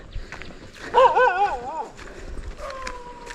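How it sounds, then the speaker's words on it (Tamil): A dog at a forest hillside settlement barks at a passing visitor, giving a short, wavering, yelping howl at fairly close range, followed by a fainter second yelp, with faint voices nearby. "நாய் மட்டும்தான் இருக்குது நாய் குழச்சிக்கிட்டு இருக்கு என்னை பார்த்து"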